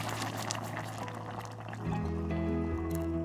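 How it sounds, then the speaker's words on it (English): Hot water pours into a pot of Egyptian lentil soup, a close, continuous splashing gush that deepens in pitch as the pot fills. "Now we'll pour hot water"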